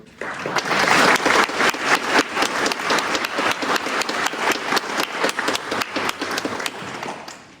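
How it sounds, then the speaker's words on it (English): An audience in a township board meeting room applauds police officers, with sharp, close claps forming a brisk, uneven patter that builds quickly, holds, and thins out toward the end. "another round of applause for Lieutenant Tartaglio, and Officer of the Year, Rodney Carroll"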